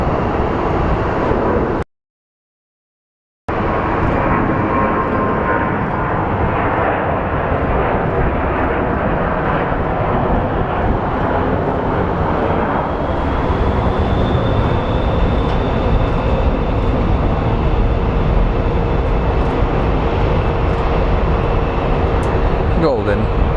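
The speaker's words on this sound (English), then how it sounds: "we do have an American Airlines Airbus about to rotate up" An American Airlines Airbus airliner rotating and taking off at Phoenix Sky Harbor International Airport, a loud continuous jet engine roar that holds steady and swells slightly, heard from a distance with a brief cut partway through.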